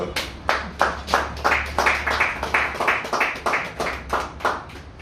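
A community audience at a Congolese boxing event claps for itself, a steady crowd applause of many hands that pulses in waves from close by, with no talking over it.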